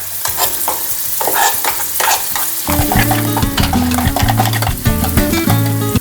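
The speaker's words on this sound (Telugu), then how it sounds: "ఇది కొంచెం మిక్స్ చేసుకొని ఇందులోనే మనం చేసుకున్న పేస్ట్ కూడా వేసుకోవాలి." Turmeric and spice paste stirred in a frying pan, with a steady loud sizzle and repeated scraping of the utensil against the pan, no talking.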